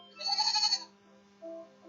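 A sheep gives one clear, wavering bleat up close, followed by a fainter, shorter tonal call under a steady low hum.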